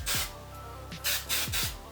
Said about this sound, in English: start hairspraying this